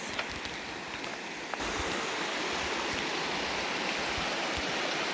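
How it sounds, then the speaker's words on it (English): A small waterfall spills into a stream beside a campsite on the Olympic Peninsula. The water makes a continuous, even rushing hiss, fairly soft and steady throughout, with no voices. "This is our soundtrack for tonight. This little waterfall."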